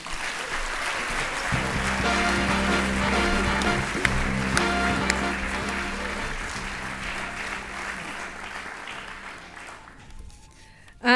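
A crowd applauds at an awards ceremony, sustained clapping that fills the room for about ten seconds before tapering off, steady and moderately loud.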